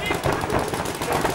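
Paintball markers firing in rapid bursts during an xball match, a dense stream of pops mixed with a commentator talking over them.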